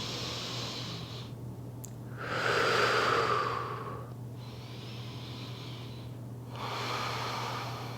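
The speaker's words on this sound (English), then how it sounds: "Breathing here for 5 rounds of breath." Slow yoga breathing during a morning flow: two long, audible breaths drawn through the nose and let out, each swelling and fading over a couple of seconds with quiet pauses between, close and soft.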